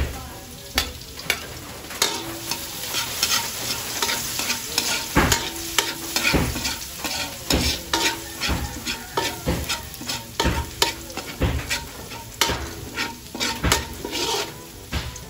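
Garlic sizzles in a pan while frying for pancit, under a constant hiss with many sharp, irregular scrapes and clacks of a utensil stirring against the metal, close and busy throughout.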